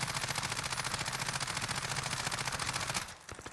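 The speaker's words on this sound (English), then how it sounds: "let me show you what the recoil looks like with the RAM with no attachments" A RAM rifle with no attachments fired in Call of Duty Warzone, a rapid, steady stream of loud automatic gunshots that stops abruptly near the end, followed by a few faint clicks.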